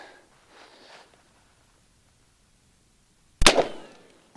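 A single sharp, loud .44 Magnum gunshot into a ballistic gel block, a sudden blast with a short ringing decay after a few seconds of near quiet and faint rustling.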